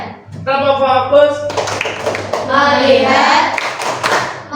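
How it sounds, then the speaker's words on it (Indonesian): A sixth-grade primary class claps out a rhythmic pattern while chanting in unison, with sharp, close hand claps mixed under loud children's and teacher's voices. "tepuk fokus."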